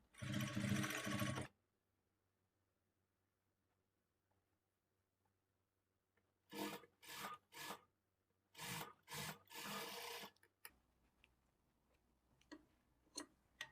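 A sewing machine stitches folded blouse fabric for a princess-cut blouse in short, close bursts of rapid ticking, one long run at the start, then a series of quick separate spurts after a quiet gap.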